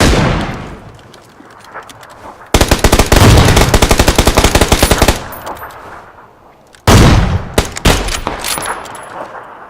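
Loud automatic gunfire from the video game PUBG Battlegrounds, arriving in two intense sustained bursts of rapid shots separated by a quieter stretch, with more scattered shots and ambient game noise around them.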